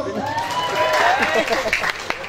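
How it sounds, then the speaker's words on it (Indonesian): A crowd at a religious sermon applauds the mothers, brief clapping heard under a speaking voice. "Tepuk tangan untuk ibu-ibu"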